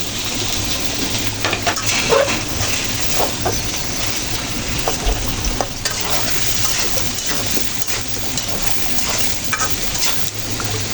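Pumpkin and potato pieces fry steadily in a pan, a soft continuous sizzle broken by occasional clinks and scrapes of stirring, with no talking.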